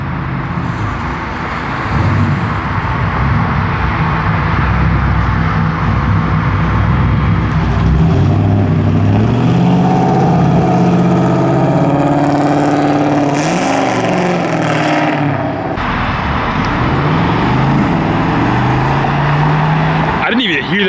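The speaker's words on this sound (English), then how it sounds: "Another very clean F-body Trans Am rolling out." Pontiac F-body Trans Am rolling out at a Texas muscle car show, its engine loud and close with rising revs and a passing sweep, mixed with crowd noise and speech throughout.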